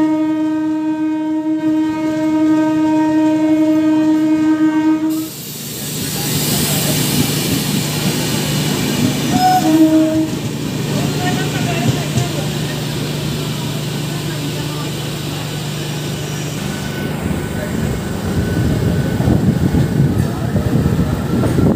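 The 09065 Chhapra–Surat clone special passes close by: a long, loud horn blast opens, then the heavy rumble and clatter of coaches rolling past continues to the end.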